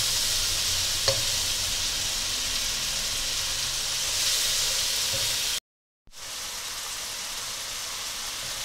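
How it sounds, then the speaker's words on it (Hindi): Masala with tomatoes, loosened with a splash of water, frying in a pan for chicken masala makes a steady hissing sizzle with a faint clink, broken by a brief silent gap. "इस मसाले को हम उस वक्त तक फ्राई करेंगे जब तक ये टमाटर हमारे सॉफ्ट नहीं हो जाते"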